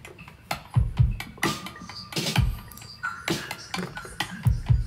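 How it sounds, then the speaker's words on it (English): Drum loop for a song, with punchy kicks, snappy snares and ticking percussion in a steady groove, playing alone at moderate volume. "So right now the drum loop sounds like this."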